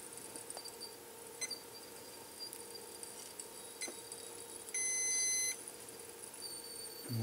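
A multimeter on continuity test gives one short electronic beep while probing a small Tesla coil kit from its solder point, heard alone in a quiet room with faint clicks around it.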